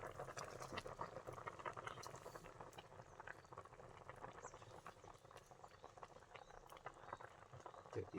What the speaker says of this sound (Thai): นี่พี่น้องมันพดแล้วพี่น้องนี่โอ้โหมันเดือดแล้วพี่น้อง